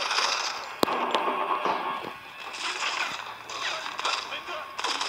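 Gunfire in the mobile shooter Modern Combat 5, sharp cracks and bursts punctuating a busy game soundscape, with one loud close shot early and scattered reports after.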